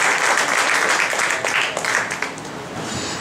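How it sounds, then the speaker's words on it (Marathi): An audience applauds lavani singers Chhaya and Maya Kutegaonkar, a full crowd clapping steadily, then slowly thinning and fading. "त्यांच्यासाठी टाळ्या झालेल्या आहेत"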